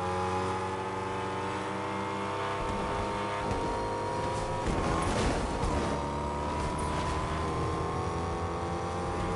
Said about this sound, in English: Yeah, that's the bus.